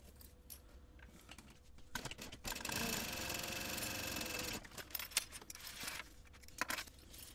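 A sewing machine bastes fabric with a narrow 1/8 inch seam for a travel accessories bag, running in a couple of short close bursts between quiet pauses and small handling clicks.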